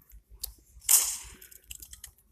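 A gunshot in the Roblox Murder Mystery game, one sharp crack that tails off quickly, set among faint clicks, with a couple of quieter pops before and after and no talking.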